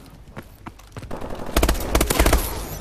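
Rapid machine gun bursts from Call of Duty: Advanced Warfare, a couple of sharp, loud volleys of gunfire that grow denser in the second half, with no talking over them.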